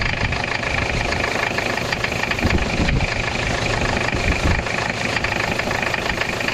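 A faulty car engine runs steadily with a rough, rattling clacking clatter layered over its low idle, continuous and close throughout.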